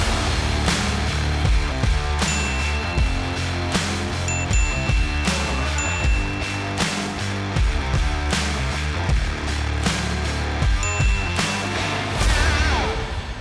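Redi and Rhino post drivers pounding fence posts into the ground in a continuous, loud, rapid hammering that barely lets up.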